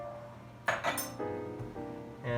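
A ladle stirring beef stock into onion soup in a pot, with a few sharp clinks of utensil on metal and then softer scraping and sloshing, close and alone.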